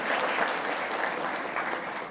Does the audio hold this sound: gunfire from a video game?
no